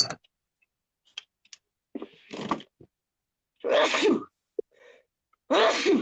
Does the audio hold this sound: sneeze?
yes